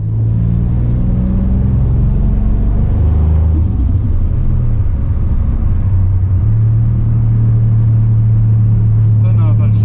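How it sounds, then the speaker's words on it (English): Holden Ecotec V6 car fitted with a Pulsar turbo driving, a loud, steady engine drone with a rising rev and turbo whistle, heard from inside the car, with some talk mixed in. "Don't know if I've showed you guys what he sounds like with his new Pulsar turbo"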